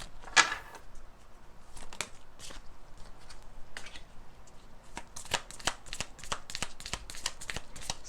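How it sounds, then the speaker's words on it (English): Archangel Oracle cards shuffled by hand, a close, fairly faint run of crisp riffling flicks and papery slaps repeating irregularly, no voices. "I feel like I need to shuffle more."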